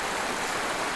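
Water flowing in a stream at an outdoor spot, heard as a steady, even rush of broadband noise, fairly close and unbroken, with no voices.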